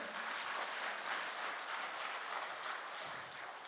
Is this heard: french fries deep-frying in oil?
no